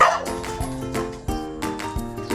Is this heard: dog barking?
yes